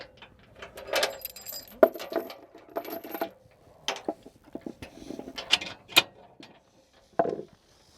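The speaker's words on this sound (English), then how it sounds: "And then we're going to do the safety chains here, which connect on either side of the hitch attachment on the vehicle." Metal trailer safety chains clink and rattle as they are hooked onto either side of a vehicle's hitch, with scattered jangling bursts and short pauses between them, close by.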